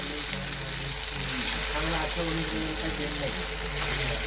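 Chira and potato cutlets sizzle steadily in hot oil, a continuous close bubbling hiss with a low hum running underneath throughout.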